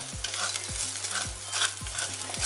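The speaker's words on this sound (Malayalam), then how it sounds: "വെളിച്ചെണ്ണ ഒഴിച്ചു കൊടുത്തിട്ട് ഒരു സവാള ചെറുതായി അരിഞ്ഞത് അതിങ്ങനെ നമ്മൾ ഇളക്കി കൊടുക്കുമ്പോൾ" Chopped onion is stirred in coconut oil in an iron pan being seasoned, with a soft continuous sizzle and regular scraping strokes of a spatula about every half second.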